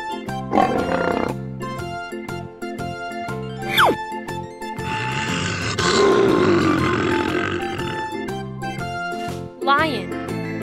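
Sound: lion roaring

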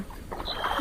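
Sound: rowing a boat

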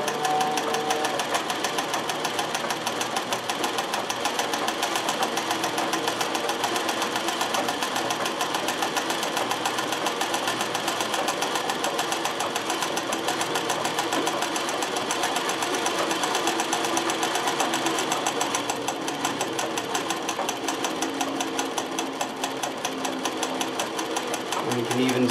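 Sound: sewing machine sewing wide zigzag with metallic thread

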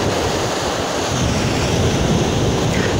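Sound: sea surf waves at high tide

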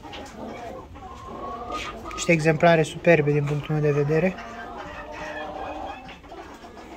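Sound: Blue Brahma chickens clucking, three hens and a rooster

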